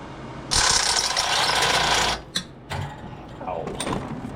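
Metal grinding or cutting enlarges a hole in a steel firebox, a loud harsh burst that stops abruptly, followed by scattered clinks and short scraping sounds of tool on metal.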